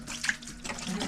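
Water running from a tap to wash the inside of a fiberglass radiator shroud being prepared for paint, a steady close splashing wash that continues through the whole short moment.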